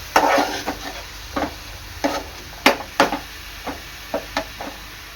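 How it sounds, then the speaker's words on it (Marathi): Green chili, coconut, ginger, garlic and coriander paste fries in oil while a spatula stirs it: a steady run of close scraping knocks against the pan over a soft background sizzle. "वाटण चांगलं तेलामध्ये परतून घ्यायचं आहे"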